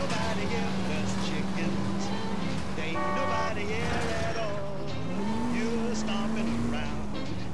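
Steady engine drone of a car being driven in L.A. Noire, a 1940s Los Angeles crime game, humming continuously with a pitch rise near the end as it accelerates, mixed with game music and background noise.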